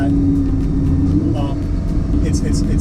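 Lamborghini Huracan driving with a loud, steady engine rumble heard from inside the car, continuous throughout with no breaks.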